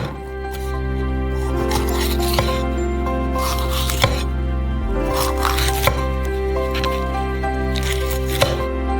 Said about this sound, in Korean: 작은 조각으로 썰어주세요.